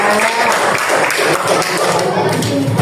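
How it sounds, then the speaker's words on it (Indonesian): A sixth-grade primary classroom applauds after students present their science answers, a dense continuous burst of clapping from a group of children, loud and close, with chatter mixed in. "Tepuk tangan dulu dong."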